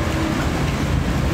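Steady rain falls during a flood tide in Can Tho, a dense, even hiss with low rumbling filling the whole moment without pause.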